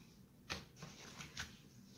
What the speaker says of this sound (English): Sorry, the cards are just not shuffling.